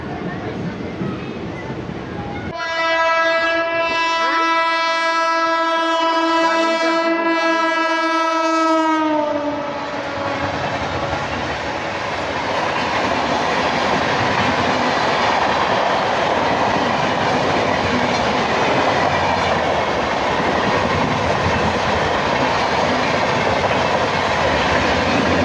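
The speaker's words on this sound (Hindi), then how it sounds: "नौगछिया के प्लेटफॉर्म नंबर 2 से डिपार्चर हो रही है अपनी ट्रेन।" A passenger train departs platform 2 at Naugachhia station in India. A long, loud, steady horn blast sounds first, then a continuous heavy rumble and rhythmic clickety-clack of the wheels builds close by.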